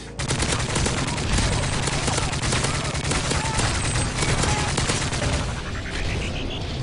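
Gunfire in a fast-paced Call of Duty: Modern Warfare 3 multiplayer match, dense rapid automatic bursts and overlapping shots forming a loud, continuous barrage with game effects, no commentary over it.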